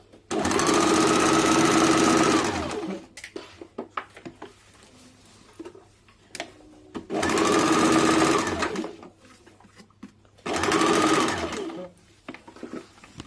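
A sewing machine runs three bursts of fast, even stitching while joining a blouse shoulder seam at half an inch, each burst a few seconds long and loud, separated by quiet pauses with faint handling clicks.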